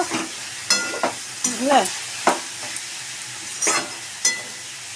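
Drumstick (sajne) greens being stir-fried in a pan, with a soft sizzle under repeated scraping and stirring strokes at an uneven rhythm, close by, while a person briefly speaks.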